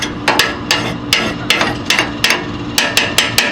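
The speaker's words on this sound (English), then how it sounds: "Use my scraper to scrape burn off." A scraper works the burn pot of a Harman pellet stove, producing loud, sharp metallic strikes in an uneven series of about a dozen, some in quick pairs, close by with no talking.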